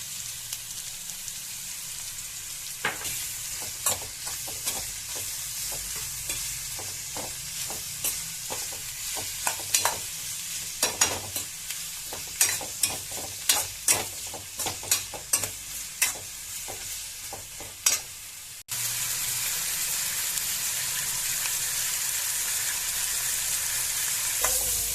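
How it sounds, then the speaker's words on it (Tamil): Sliced onions sizzle in a hot pan with salt added, while a spoon stirs and scrapes in irregular clacking strokes. The stirring stops and a steady frying hiss continues alone. "வெங்காயத்தை விட நம்ம தேவையான அளவு உப்பு சேர்த்துட்டுனா சீக்கிரமாக வெங்காயம் வதங்கிடும்."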